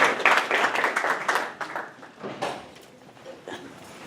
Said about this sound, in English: give them a huge round of applause because we appreciate you so much